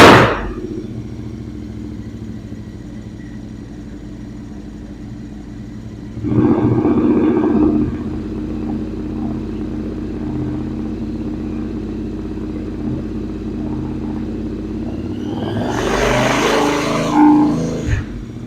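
A Royal Enfield 650cc motorcycle fitted with Tec big bore headers and AEW mufflers idles with a low throbbing burble, then blips its throttle in two rising revs, loud and close without speech.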